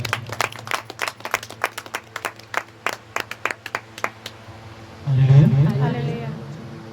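A church congregation at a youth meeting claps in a steady, brisk rhythm, many hands together, before singing voices swell in.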